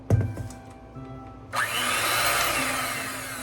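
An electric hand mixer creams butter, cream and sugar in a bowl, starting after a few light knocks and then running as a steady, loud whirring buzz to the end.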